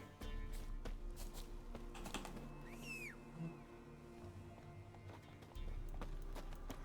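Rhythmic hoofbeats of a galloping horse in The Witcher 3 video game, steady and fairly close, with faint background chatter and game-like effects.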